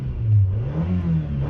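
A 1997 Toyota Camry LE engine revs up under acceleration, a loud, close mid-pitched drone rising and easing over a brief moment, with no talking.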